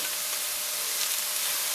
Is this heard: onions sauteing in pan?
yes